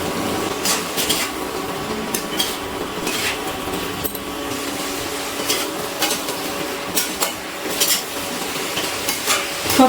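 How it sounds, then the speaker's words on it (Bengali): A spoon scrapes and stirs a ridge gourd, potato and prawn curry in a pan on an induction cooktop, giving repeated clinks and scrapes over a steady low sizzle, close and fairly loud. "এবারে খুব ভালো করে আমি নাড়াচাড়া করে নিচ্ছি।"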